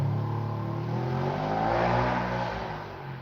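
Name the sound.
loud engine of a small wilderness car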